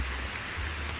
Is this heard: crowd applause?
no